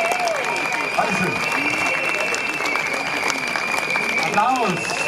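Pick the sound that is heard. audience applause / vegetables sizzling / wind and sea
audience applause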